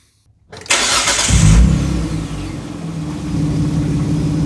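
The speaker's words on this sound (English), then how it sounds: "Start the car." A 2005 Kia Sportage with a 2.7-liter V6 cranks briefly and fires up loudly, then settles into a steady, rumbling idle close to the listener.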